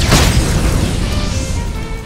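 A fire spell attack in the video game Octopath Traveler II erupts as a loud, booming blast, then rolls on as a dense, crackling roar that slowly fades over about two seconds.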